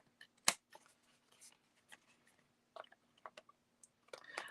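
Big cheap scissors cut paper at a card-making table with foil backgrounds: a few sharp, close snips and light clicks spaced irregularly, with soft paper rustle between them.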